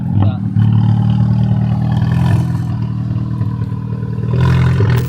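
Up close, a 2019 Volkswagen Jetta engine revs and roars in a deep, steady growl that dips briefly midway and swells again near the end, with people talking over it.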